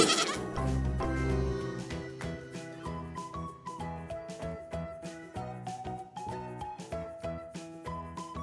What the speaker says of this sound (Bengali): পথে ছাগল ছানা ছাগল ছানা লাফিয়ে চলে